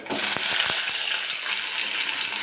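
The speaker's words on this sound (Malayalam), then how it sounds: "വെളിച്ചെണ്ണ ചൂടാകുമ്പോൾ അരിഞ്ഞു വെച്ച സവാളയും തക്കാളിയും ഉണക്കമുളകും കൂടി ഇതിലേക്കിടും" Chopped onion, tomato and dried chillies frying in hot coconut oil, a steady bright sizzle with a few soft clicks and pops throughout.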